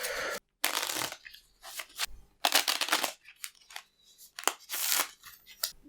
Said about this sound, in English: We take the appropriate blessing decks and we shuffle them all together to make one Uber blessing deck.